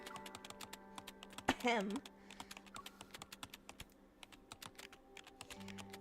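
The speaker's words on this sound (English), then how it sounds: "His slender fingers swiftly dance across the keyboard, producing a constant click-clack sound." Fingers type rapidly on a computer keyboard, a continuous close click-clack with uneven bursts, and a person briefly clears their throat partway through.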